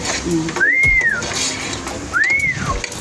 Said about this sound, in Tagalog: Ang sekretong sipol.